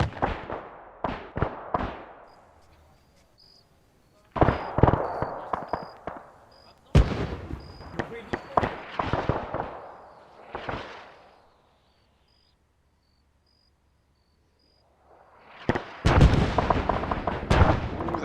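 Enemy mortar and artillery fire in the video game Operation Deadstick: bursts of heavy booming impacts and blasts that come in clusters, separated by quiet gaps, with a loud volley at the end.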